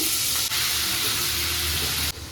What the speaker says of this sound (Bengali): জিরে ফোড়ন দিলাম শুকনো লঙ্কা কুচানোটা দিয়ে দিচ্ছি